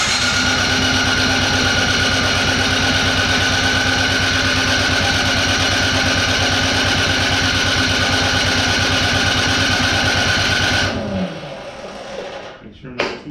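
A Troy-Bilt Storm 2 snowblower's small engine idles loud and steady with an even chugging pulse for about eleven seconds, then cuts out and leaves faint rattles.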